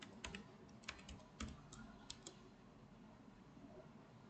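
Quiet clicks of a computer keyboard as C code is typed, a handful of irregular keystrokes early on and then tapering into near silence, nearby and with no speech.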